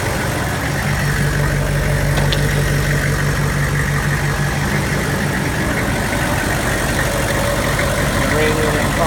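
A loud, steady Hummer H1 engine idling close by, a deep continuous rumble with a low droning hum that holds throughout.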